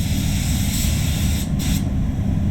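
A spray gun applies Quartz Liquid Glass coating in a steady, loud airy hiss during a budget car respray, with a brief interruption midway as the trigger is released and pulled again, close and without talk.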